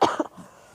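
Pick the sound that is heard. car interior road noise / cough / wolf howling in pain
cough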